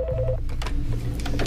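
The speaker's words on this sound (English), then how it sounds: "Former United States Marshal Art Roderick receives a breathtaking phone call" A telephone rings in a Washington, D.C. setting, with steady tonal pulses in the first half giving way to a denser, louder mix of sound.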